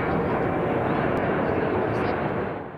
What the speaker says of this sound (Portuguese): interrompidas pela passagem de aviões rumo ao aeroporto Humberto Delgado